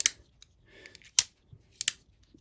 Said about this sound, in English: Put pressure on the lock bar, fold it up.